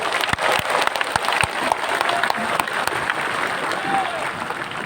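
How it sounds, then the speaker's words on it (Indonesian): A large crowd at a national political party meeting in a Jakarta convention hall applauds with dense, continuous clapping, a few sharp louder claps near the start, and faint voices mixed in throughout. "saya ajak saudara berikan tepuk tangan"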